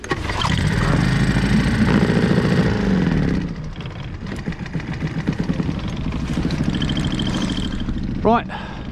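A boat outboard motor on a lake during trout fishing runs loud and steady, then drops to a lighter, uneven putter with a short burst near the end.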